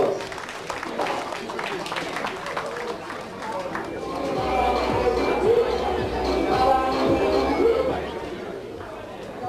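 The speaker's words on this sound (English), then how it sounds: "give them a round of applause" Applause rises from a crowd at a community association gathering, a scattered wash of clapping building midway amid murmuring chatter and some voices, moderately loud and somewhat distant.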